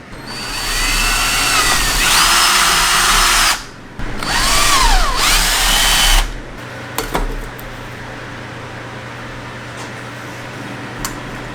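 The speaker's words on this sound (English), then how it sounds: "It's just a matter of lining it up and drilling." A power drill whirs loudly in two long bursts with a short pause between, its pitch sliding as it bites while drilling holes to fit RX-8 pedals in an NC Miata, then stops, leaving quiet background hum.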